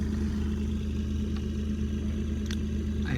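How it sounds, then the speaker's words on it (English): PM Easy Air 15 air compressor, rated at 50 PSI, runs with a steady motor hum and droning tone at close range, continuous throughout with a couple of faint clicks. "It goes into the tank, and then comes from this PM Easy Air 15, which is a 50 PSI compressor."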